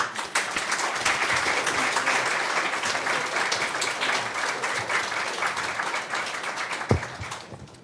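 A lecture audience applauds to welcome the speaker, steady dense clapping that carries on for several seconds and thins toward the end.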